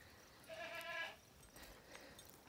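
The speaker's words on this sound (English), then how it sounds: "I have an impatient goat, so I better start milking" A goat on a rotating pasture with chickens and ducks gives one clear, moderately close bleat lasting about half a second, then quiet outdoor air.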